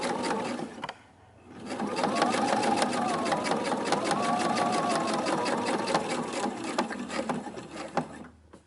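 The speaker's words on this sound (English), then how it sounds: "Turn your fabric, foot down, and keep sewing." A sewing machine stitches fabric for a baby changing pad, running in a steady, close mechanical whir with a brief pause near the start before resuming and running continuously to the end.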